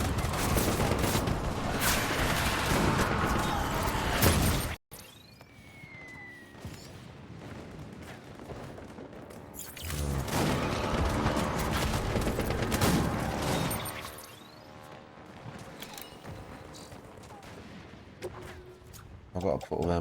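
Video game guns fire in sustained bursts and booming volleys, loud and dense, cut by a sudden break before the shooting resumes, with a voice talking over it.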